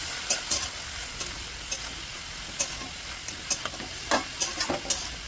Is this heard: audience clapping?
no